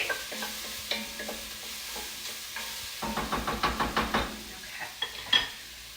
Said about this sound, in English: once the garlic goes in, you're just gonna wanna cook it for just a few more minutes